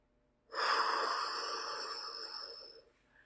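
One long, deep breath taken slowly to calm down, close and fairly loud, a steady airy rush lasting a couple of seconds before fading, with no talking.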